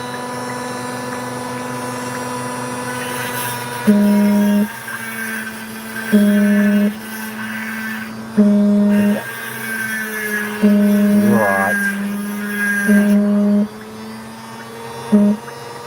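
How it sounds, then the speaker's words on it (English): A Dremel rotary tool slices opal in short repeated bursts, its high steady whine switching on and off about every two seconds over a constant background hum, with no talking. "the good advantage of using a Dremel, the way I'm doing it, is that slicing the Opal is no longer a problem"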